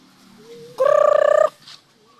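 A turkey lets out one loud, rapid warbling gobble lasting under a second, with quieter bird calls before and after.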